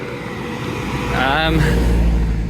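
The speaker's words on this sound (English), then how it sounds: "Oh, a car." A car passes on a mountain road in the hills around Almaty, Kazakhstan, its engine rumble swelling from faint to a loud, close drone that holds steady to the end, with voice-like sounds over it.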